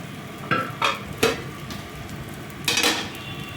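Potato filling being stirred and fried with spice paste in a pan: repeated scraping clinks of a spoon against metal at an uneven rhythm over a low, steady sizzle, close and fairly loud, no talking.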